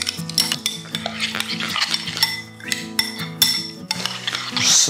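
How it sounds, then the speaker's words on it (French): A spoon stirring lobster roll filling in a bowl, with soft scrapes and light clinks over a background of steady music. "Et, on va tout mélanger ça ensemble."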